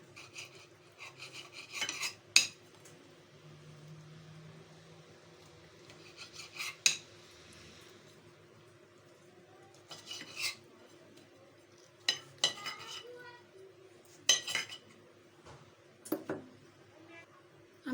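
Knife cutting eggplant, onions, potatoes and tomatoes on a board for aloo baingan, with irregular sharp taps and scraping strokes in bursts between quiet pauses, close and fairly soft.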